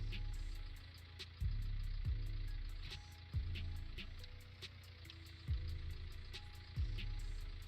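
A small tractor engine in the Farming Simulator 19 video game runs steadily at close range, with a low continuous rumble and several short knocks or clunks recurring every second or so.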